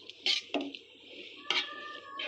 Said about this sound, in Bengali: অ্যাড করে দিলাম সবজির সাথে, ভালো করে নেড়ে চেড়ে নিতে হবে।